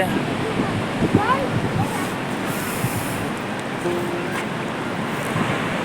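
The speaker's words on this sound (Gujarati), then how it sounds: "મોટો દરિયા કિનારો છે." Sea waves wash steadily onto a wide beach near a lighthouse and a Mahadev temple, a loud, continuous surf roar mixed with wind buffeting the microphone.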